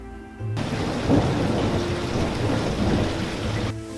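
Steady heavy rain pours with rumbling thunder, a dense continuous wash of drops that cuts in abruptly and stops just as suddenly.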